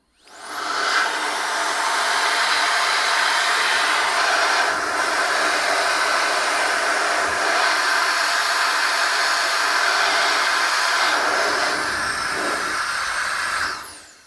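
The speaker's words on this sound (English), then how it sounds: "I'm using KICA Jetfan 2 to do this job properly" KICA Jetfan 2 electric air blower cleaning a PC CPU radiator, a loud steady rushing hiss of air that starts abruptly, runs for about thirteen seconds with slight fluctuations, then cuts off.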